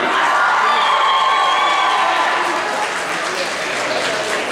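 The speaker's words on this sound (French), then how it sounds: "Applaudissez très fort les accessoiristes." Loud, sustained applause mixed with crowd cheering from an audience at a roleplay contest, a dense continuous wash of clapping that eases slightly toward the end.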